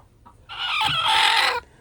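Chickens cluck loudly and close by in a hot garden, a single sustained burst of agitated squawking lasting about a second, with no talk over it.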